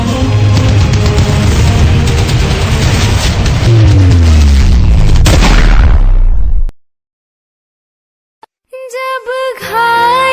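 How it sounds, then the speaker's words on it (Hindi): Audio drama battle effects for a patriotic Independence Day play: loud, dense gunfire and booming explosions for about six seconds, then abrupt silence, followed by a few short tonal beeps. "कवर फायर दो उसे।"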